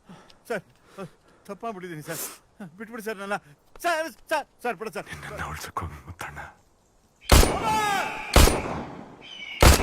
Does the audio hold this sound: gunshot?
yes